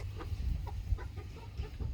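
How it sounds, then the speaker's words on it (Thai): Laying hens on a chicken farm cluck in soft, repeated bursts while pecking at feed, a close, low murmur of overlapping hen calls with no talk. "น้องไก่กำลังกินเหยื่อ"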